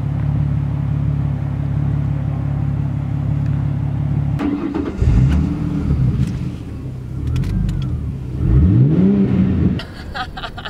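A sports car engine starts and revs in a few rising and falling bursts after a steady low idle, fairly close and loud, with no talk over it.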